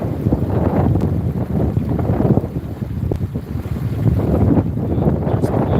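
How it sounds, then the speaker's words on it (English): Steady gusting wind roars outdoors beside a creek, buffeting the microphone with loud low rumble that swells and eases throughout, no voices present. "wind is starting to pick up"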